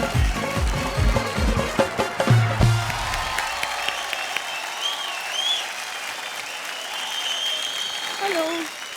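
Audience applause from a studio crowd at a comedy show, loud and sustained, starting dense near the front and tapering into steadier clapping. Music and some chatter sit underneath.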